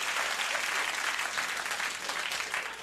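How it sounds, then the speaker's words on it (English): Studio audience applause at a late-night comedy show, a uniform, dense wash of clapping at moderate distance that runs steadily for a few seconds with no voices over it. "Again with the eerie delayed applause."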